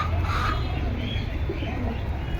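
Pigeons in a fancier's collection kept for sale coo softly amid a steady hum of background noise, the calls low and blurred rather than distinct.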